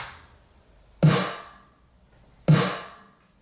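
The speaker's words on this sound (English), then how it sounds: "Just a simple snare" Two sharp snare drum hits alone, about a second and a half apart, each with a crisp crack and short decaying ring over a faint background.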